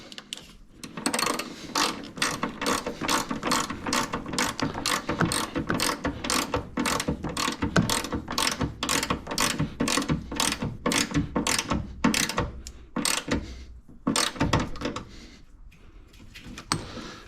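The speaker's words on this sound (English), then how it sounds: "I'll take that bolt and stuff it right back in the body. And we'll just tighten back up." A ratchet wrench tightens a bolt back into an AirDog 150 fuel pump body on a 2nd Gen Cummins, giving a long run of quick, even, close metallic clicks that slow and break up near the end.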